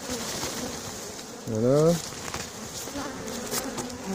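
Honeybee swarm buzzing steadily as it is shaken into a cardboard box with branches, a bee rescue at Le Mée-sur-Seine; a voice briefly speaks over the hum partway through.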